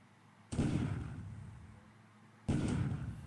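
Naval gunfire from battleships in the Pacific: AE wargame, two heavy booming gun blasts about two seconds apart, each with a long rumbling decay, loud and alone with no talk.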